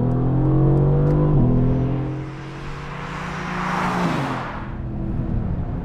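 A Mercedes-AMG GT's exhaust revs hard and loud on track, pitch climbing in surges with a raspy roar that swells, dips, then builds again.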